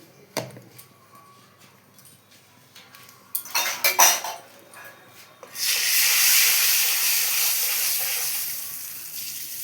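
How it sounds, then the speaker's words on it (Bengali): Turmeric added to hot oil in a wok sets off a loud, steady sizzle after a few clanks of a utensil against the pan. "আর যে এখন আমি হলুদ দিলাম কড়াতে।"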